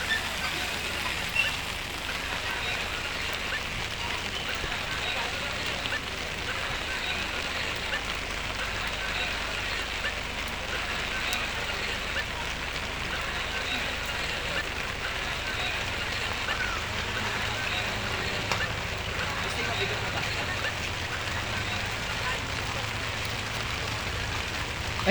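Rain pours steadily over a street during a Santa Maria, Bulacan religious procession, a constant even hiss with faint crowd murmur beneath it.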